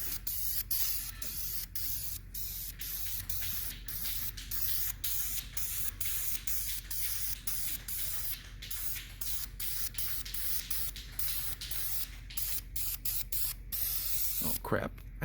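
Spray painting another coat onto a Dodge wagon: a steady, close hiss of spray runs almost continuously, broken by brief pauses between passes.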